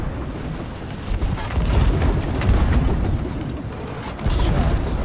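Cannon fire in a Sea of Thieves naval fight, heavy low booms rolling over each other amid creaking ship and wind noise, loud and close with no clear isolated single shot.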